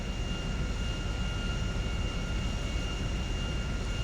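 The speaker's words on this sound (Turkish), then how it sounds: "Çok büyük bir uçak ya." A huge airplane engine in GTA 5 roars with a steady, loud, unbroken jet drone, high whine tones held constant throughout with no talk.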